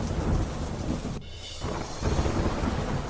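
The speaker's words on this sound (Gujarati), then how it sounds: "દમણના અનેક વિસ્તારોમાં ધોધમાર વરસાદ" Heavy monsoon rain pours down in Gujarat, a loud, dense hiss of rain on surfaces with deep rolling thunder. The downpour dips briefly midway, then surges back strongly.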